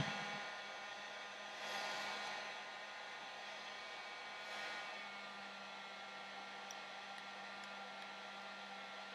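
A heat gun blows hot air over small cut-out craft scales, a steady, soft whooshing hum with a low tonal drone, swelling slightly twice as the nozzle moves, heard alone at close range.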